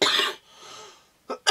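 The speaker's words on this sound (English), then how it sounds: "Sorry about the coughing." A person coughs harshly twice, close up, with a short quiet gap between the bursts.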